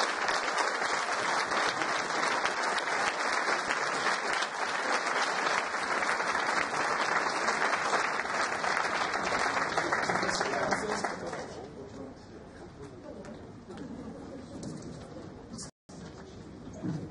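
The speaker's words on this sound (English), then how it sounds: "can I please ask you to give a big round of applause and a huge welcome for Carl Osterby" Audience applause welcoming a guest of honour at the Spirit of Manchester Awards, a loud dense wash of clapping for about eleven seconds that then drops to a quieter, thinner patter.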